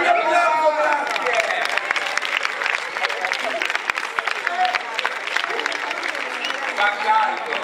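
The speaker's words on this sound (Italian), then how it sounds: "un applauso, grazie" An audience at a cabaret show applauds steadily and fairly loudly for several seconds, a dense patter of clapping with voices talking over it.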